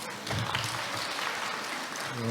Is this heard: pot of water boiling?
no